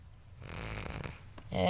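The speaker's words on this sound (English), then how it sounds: "You're snoring." A person snoring in bed, one low, rough, rasping inhalation heard close and fairly quiet, followed by a brief voice at the end.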